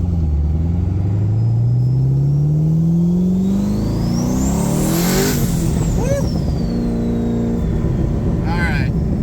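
A 1200hp twin-turbo Corvette Z06 with a custom exhaust roars loudly up through the revs, then drops to a rumbling idle with crackles and whines.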